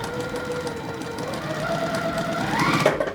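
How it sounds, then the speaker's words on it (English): Sewing machine stitching quilt squares together, a continuous close mechanical whir with rapid needle chatter that rises in pitch toward the end before slowing. "I'll just sew these 3 bottom ones together first."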